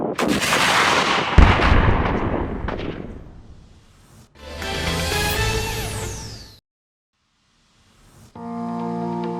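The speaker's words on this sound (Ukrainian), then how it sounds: "Постріл! Постріл!" A single heavy gunshot booms and rolls into a long echoing rumble, followed by quieter mechanical noises and a pause.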